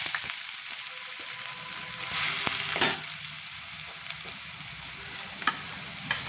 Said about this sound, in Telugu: నూనె బాగా కాగింది. ఇప్పుడు ఉల్లిపాయ ముక్కలు వేసుకుందాం.